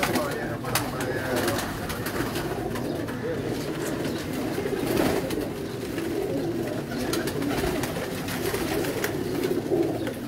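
Pigeons cooing from a rooftop loft, soft repeated coos over steady background noise, with people talking nearby throughout.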